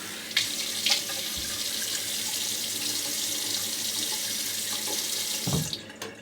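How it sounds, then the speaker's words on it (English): Water runs steadily from a tap into a sink while a safety razor is rinsed under it, with a few brief knocks and splashes as the blade moves through the stream, close and continuous, no voices. "Okay, let's rinse."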